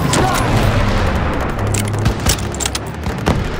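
Heavy gunfire and booming blasts fill a World War II battle in Call of Duty WWII, a dense continuous barrage with sharper shots standing out near the end while voices shout over it.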